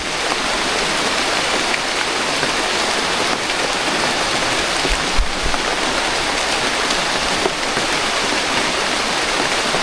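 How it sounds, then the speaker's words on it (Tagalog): Steady light rain patters continuously on leaves and surfaces, an even hiss with occasional louder drops, no voices. "Umuulan, umuulan."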